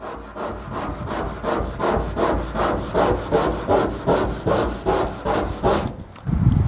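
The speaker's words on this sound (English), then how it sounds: "So as you can see, I'm rubbing quite hard and the paint is not coming off" Scotch-Brite pad rubbed hard back and forth over painted stone, a close, loud, rhythmic scrubbing of about a dozen even strokes, ending with a clunk.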